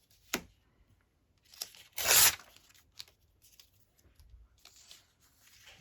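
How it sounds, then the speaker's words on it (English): Scrap paper is torn along its edge during a crafting session making masterboards, a short, close, rasping rip with a few faint rustles and handling sounds around it. "I think I might tear that edge."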